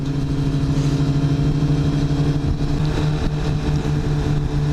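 A Kawasaki ZX-10R motorcycle engine drones steadily while riding at low revs in traffic, a constant mid-pitched hum mixed with road and wind rumble, with no voices.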